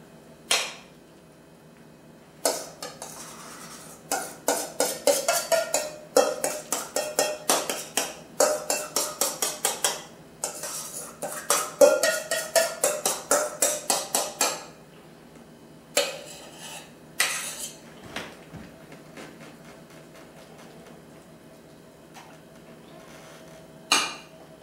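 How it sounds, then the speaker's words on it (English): Dishes and pots clink and clatter in a quick run of sharp, bright hits as mac and cheese gratin is portioned into two 16-ounce dishes, with scattered later knocks and no talk. "Alright, now we're just going to split this."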